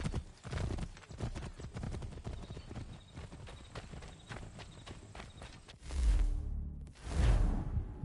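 Several horses gallop fast in Assassin's Creed 3, dense clattering hooves with a whinny, then heavy rumbling whooshes as riders pass close by.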